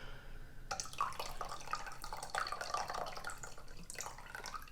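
Rice vinegar is poured into a pickling jar, a close gurgling, splashing trickle of liquid that starts abruptly and runs continuously for several seconds without any talking.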